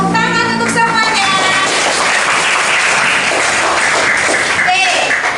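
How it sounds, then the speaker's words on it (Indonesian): Dense, continuous clapping from a classroom group of students fills the whole stretch, with voices and cheering mixed into the applause. "Tepuk tangan untuk semuanya."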